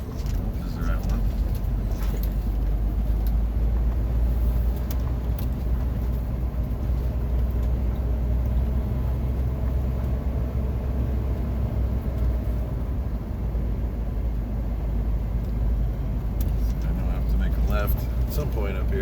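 A car drives along a road with a constant loud engine and tire rumble from inside the cabin, and a person talks over it now and then.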